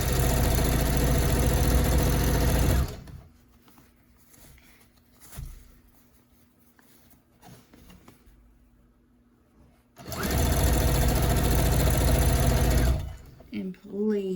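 A sewing machine stitches fabric into a scrunchie in steady running bursts, loud and close, stopping for a quieter stretch of fabric handling before starting up again.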